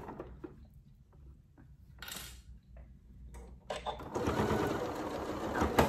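A Janome Memory Craft MC9450 sewing machine stitching a fabric face mask, a quick mechanical whirring that starts and stops in short runs with clicks between, then a longer steady run near the end.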